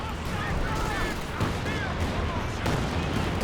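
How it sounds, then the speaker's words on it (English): Zeroing artillery barrage in the Company of Heroes 2 real-time strategy game, a dense continuous wash of rumbling shell impacts and gunfire at steady loudness, with faint whistling shells overhead and brief louder bursts. "That is a very expensive ability, the zeroing artillery."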